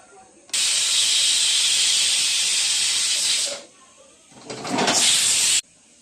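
A pressure cooker whistle releases steam while turmeric-seasoned food cooks in a home kitchen: a loud, sustained hiss of about three seconds, a brief lull, then a second shorter rushing burst before it cuts off.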